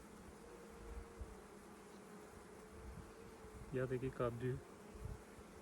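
Honey bees buzz steadily at a hive during an inspection of new splits, a continuous low drone with a louder close pass of wings near the end, while someone speaks briefly.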